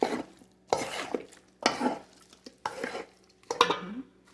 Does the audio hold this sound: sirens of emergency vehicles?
no